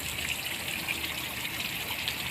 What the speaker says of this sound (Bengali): এখানেও ওনারা পানি দিতেছে